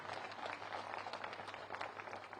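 A crowd at an outdoor election campaign rally in Shimla claps steadily, a dense, even wash of applause from many hands. It fills the whole moment at moderate loudness and a little distance, with no break.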